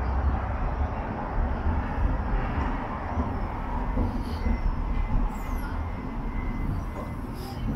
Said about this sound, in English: Tram there.